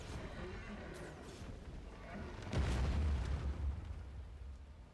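A muffled explosion in Guild Wars 2 booms midway, with a low rumbling burst following some quieter crackling and distant pops, fairly faint overall.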